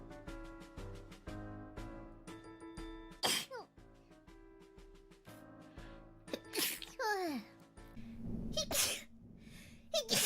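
Close, squeaky sneezes from a Hololive VTuber burst out two or three times between soft vocal sounds and breaths, each sneeze sharp and sudden in an otherwise quiet room.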